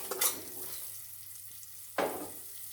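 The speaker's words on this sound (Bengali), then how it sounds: "আরও একটু খুব ভালো করে কষিয়ে নিতে হবে, কারণ কাঁচা দইয়ের একটা যে গন্ধ সেটা যেন চলে যায়" Masala with curd for rui fish fries in a pan with a steady soft sizzle, broken by two sharp scraping stirs at the start and near the end.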